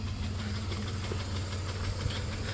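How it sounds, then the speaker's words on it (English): A 1993 Plymouth Grand Voyager minivan engine with a ticking fault, idling steadily up close as a continuous low rumble with faint light ticking throughout. "with a ticking engine, you know,"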